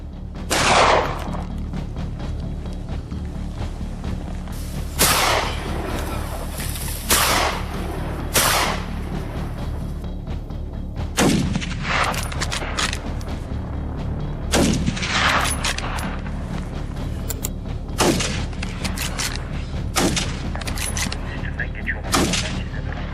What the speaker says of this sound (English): Gunfire erupted from all directions.